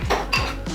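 A spoon clinks and scrapes against a bowl while Violife vegan cheese is stirred into egg-free frittata batter, two or three quick close knocks with no one talking.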